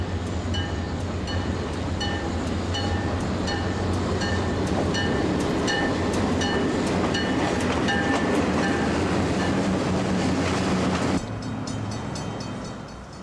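Burlington Northern E9 diesel locomotives, rebuilt in the early 1970s, haul commuter trains on the Aurora run, a loud steady rumble with rhythmic wheel clicks over rail joints that fades slightly near the end.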